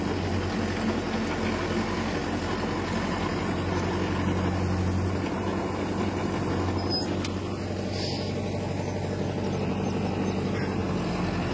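A Mahindra Yuvo Tech+ 585 tractor engine runs steadily with a low diesel drone while reversing, loud and continuous for the whole stretch.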